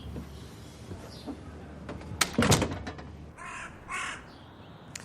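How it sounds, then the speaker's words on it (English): Crows caw outdoors in a quiet spot, a few harsh calls clustering near the middle, with a clear loud caw sequence, then a couple of more distant calls toward the end over soft background hiss. "Crows do a nice line in withering irony."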